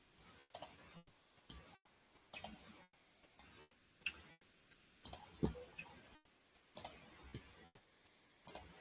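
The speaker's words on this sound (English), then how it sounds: "See, I do so much typing to get things." Clicks from a computer keyboard come in short irregular bursts, each a few sharp taps close to the microphone, separated by quiet gaps, fairly faint and with no voices.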